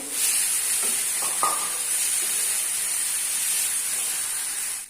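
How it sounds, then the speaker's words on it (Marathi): Dried small shrimp (golam), washed, being sautéed in a pan: a steady broad sizzle with a few faint utensil scrapes near the start, no talking. "हा मी आता थोडासा परतून घेते"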